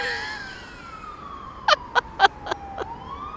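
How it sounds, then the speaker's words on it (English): A siren wails in the distance with a slowly falling tone on Talbot Road in Blackpool, while a few sharp, close knocks or clicks sound in quick succession partway through. "Listen to the siren."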